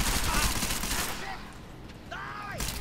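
A gun in the video game Deus Ex Mankind Divided fires a quick burst of loud shots up front, then the noise fades as a voice speaks over the quieter tail.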